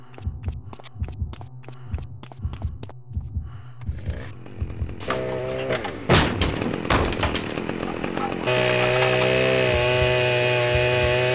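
Chainsaw in the PC game Manhunt, a buzzing saw drone that builds over a pulsing, heartbeat-like game soundtrack and grows loud and steady toward the end.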